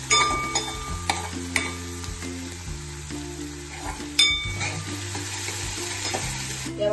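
A coriander, chili and garlic paste hits crackling mustard seeds in hot oil, setting off a loud sizzle with sharp spatters, then stirring scrapes and a few metal clinks against the pan.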